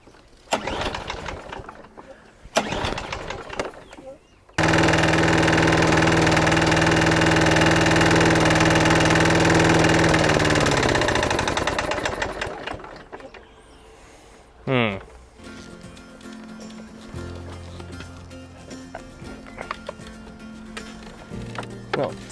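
A misbehaving lawnmower engine catches after a few short start attempts, roars loudly and steadily for several seconds, then sputters and dies away. It is followed by a brief pull-start and a lower, rough idle.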